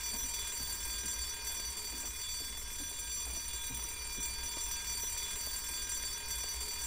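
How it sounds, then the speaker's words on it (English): An alarm goes off in Silent Hill Downpour, a continuous high ringing tone sustained over several seconds at moderate level above a low rumbling background, with no speech. "An alarm, of course."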